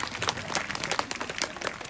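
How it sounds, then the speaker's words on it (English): An audience at an outdoor bird show at Healesville Sanctuary claps for a barking owl's flight, brief, fairly quiet scattered applause lasting a couple of seconds. "You might want to give her a round of applause."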